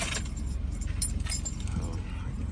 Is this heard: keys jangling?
yes